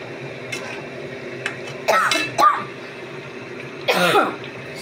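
Someone ill with a cough and fever coughs and clears their throat in a home kitchen while cooking spicy chicken curry, with a few sharp, close bursts spaced across an otherwise quiet moment.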